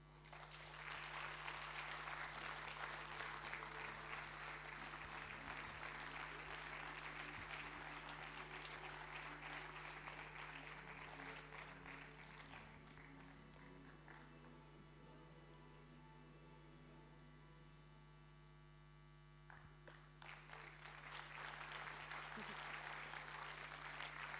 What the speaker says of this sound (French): je vous demande d'applaudir le collectif de défense des sentiers et chemins de Philippeville